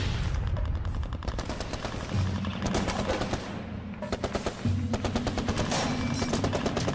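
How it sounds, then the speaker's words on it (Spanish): Rapid bursts of machine-gun fire rattle continuously, with overlapping volleys and deeper booms underneath, loud and close throughout. "Cuando suenan los primeros disparos"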